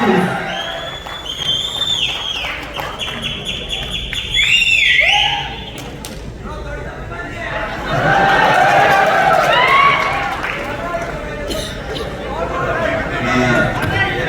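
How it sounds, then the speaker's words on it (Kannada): Audience at a film first-look launch event cheering and clapping in waves, a crowd swelling loudly and then easing off, with voices chattering and shouting throughout. "ಚಪ್ಪಾಳೆ"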